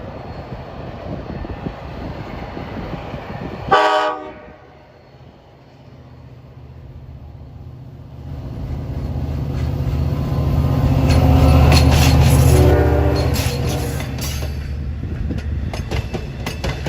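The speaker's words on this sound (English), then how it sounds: "And the westbound's meeting counterpart has the great 411 K5LA horn." A Long Island Rail Road train on the Port Jefferson Branch gives a short, loud blast from a Leslie RS-5T K5LA horn. The heavy rumble of the train then builds and passes close by.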